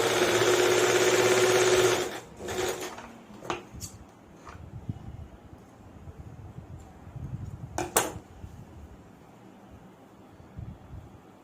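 Domestic sewing machine stitching fabric for a designer frock, a steady loud whirring run for about two seconds, then stopping, followed by scattered handling clatter and clicks.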